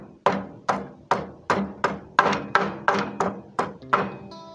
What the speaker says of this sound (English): it's time to sharpen. Yeah. It's time to sharpen my stick